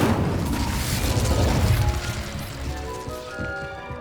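An Incendio fire spell bursts in Hogwarts Legacy with a deep, rumbling whoosh and booming crackle that swells loud, then fades into a softer magical tail.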